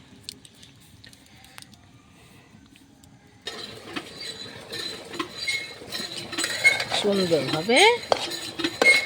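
Spinach and kalai dal being stirred in a pot, with a near-quiet start, then a spoon scraping and clinking against the metal in busy, uneven strokes while a voice speaks briefly.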